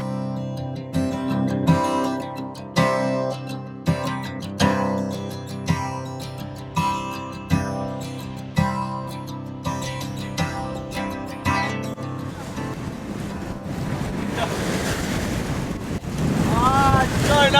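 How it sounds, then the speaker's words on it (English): A sailboat cuts through open water as strong wind buffets the microphone and waves wash past, the gusts and water noise swelling loud toward the end. "So nice to be sailing again!"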